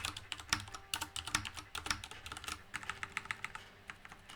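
Fast, uneven typing on a computer keyboard while programming in C, a close run of sharp clicks and key thumps with brief pauses, no voices.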